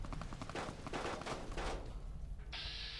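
Rapid gunfire in Fallout: New Vegas, a dense volley of shots that comes in quick waves and then breaks off, followed by a brief high-pitched ringing tone at the end.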